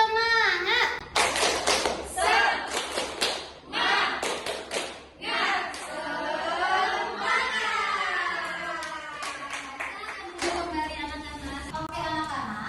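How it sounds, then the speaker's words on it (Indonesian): A classroom of children performs a rhythmic spirit clap, with sharp bursts of clapping in patterned groups alternating with chanted voices and an adult talking. "Tepuk semangat."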